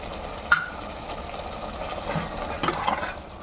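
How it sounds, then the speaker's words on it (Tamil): A spoon stirring coconut paste and curd into a mutton chop gravy in a pan, faint scraping and soft wet sloshing with a couple of sharper clinks against the vessel. "நல்லா மிக்ஸ் பண்ணிக்கோங்க ஃப்ரெண்ட்ஸ்"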